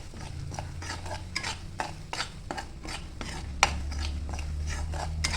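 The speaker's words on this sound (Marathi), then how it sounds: "हलवून घेऊया आपण. एकत्र मिक्स करूया" A spoon stirs hot oil with tempering spices in a pan for thin poha chivda, with the gas turned off, giving repeated scraping strokes and light clinks at close range, steady throughout.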